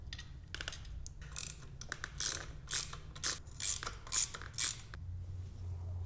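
Ratcheting clicks come in quick close bursts as T25 screws are backed out of a 1997-2004 C5 Corvette seat track rail, with short pauses between turns.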